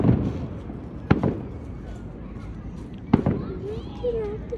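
Fourth of July fireworks go off outdoors as two loud, sharp bangs about two seconds apart, each trailing a short crackle, over the background noise of a crowd with voices.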